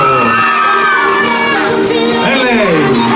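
Fans, many sounding like children, scream and cheer in a loud continuous roar as a singer arrives at a record-signing at the Auchan Santa Gilla mall in Cagliari.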